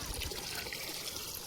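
Water pours steadily to fill a container at home, a continuous close trickling splash that stays even in loudness throughout.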